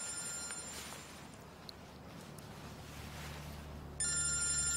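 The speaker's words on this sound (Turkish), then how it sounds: "Telefonun çalıyor." An indoor telephone rings faintly against a low background hum, and its ringing swells noticeably louder in the final second.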